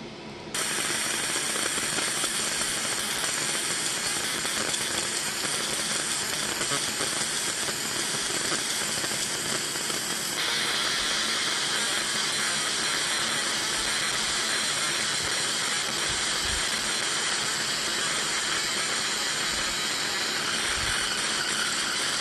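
A fiber laser marks powder coated aluminum, producing a continuous bright mechanical hiss and whine with faint ticking, steady and close for the whole stretch, with no voices.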